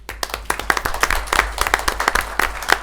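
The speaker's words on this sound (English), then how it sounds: "we can give them a round of applause" Audience at a Clayton County Board of Commissioners business meeting breaks into steady applause, a dense patter of many hands clapping at close range with no talk over it.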